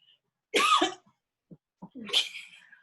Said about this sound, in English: I always cough, but the cough has come back during the season